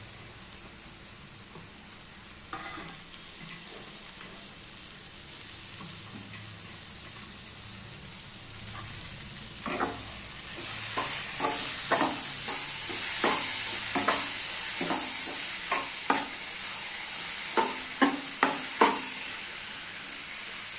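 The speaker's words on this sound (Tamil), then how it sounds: "தக்காளி நல்லா வதங்கட்டும்" Steady sizzling of onions and tomatoes sautéing in a pan, growing louder midway, with scattered sharp crackles and spits and occasional stirring.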